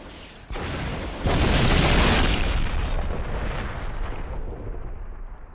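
A rocket launcher in a Resident Evil game sets off a huge, loud explosion that booms in, swells into a roaring blast, then slowly rumbles and fades away.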